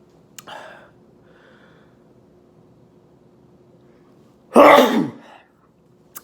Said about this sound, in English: my sneezes are gaining